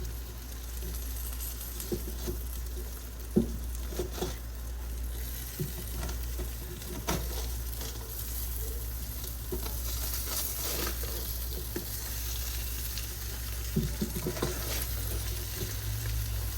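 Potato and cheese pierogies frying in a pot for a one-pot pierogi and kielbasa dinner, a low continuous sizzle with occasional scraping and clicking as they are stirred, fairly quiet, no talking.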